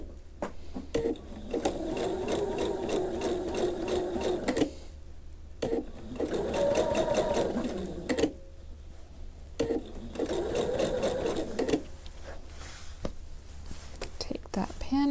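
A sewing machine stitches curved quilt fabric pieces in steady whirring bursts of several seconds each, separated by short pauses, heard close and clear while a person talks quietly at times.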